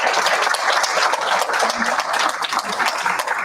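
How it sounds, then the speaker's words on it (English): Dense applause from a seated audience at an evening lecture series, steady and loud throughout with continuous overlapping claps and no pauses. "So please, a huge round of applause for our series sponsors."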